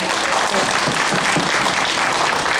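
Dense, steady applause from an audience at an outdoor press conference on school shuttle bus safety, a broad wash of clapping that holds level throughout with no voices rising above it.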